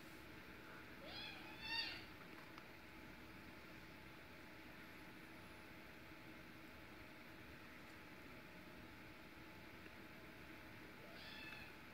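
A kitten gives a few faint, thin meows, one early and another near the end, over a quiet steady background hiss in an indoor room.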